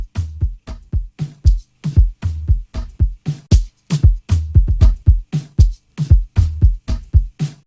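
An FL Studio beat plays a steady, punchy kick drum pattern layered with a crisp percussion top loop, loud and close, its rhythmic hits repeating evenly throughout with no voice.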